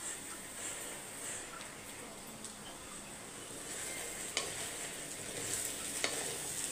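A curry leaf thokku fries in oil in a pan while it is stirred. A steady, close sizzle continues throughout, broken by a few sharp scrapes of the spoon against the pan.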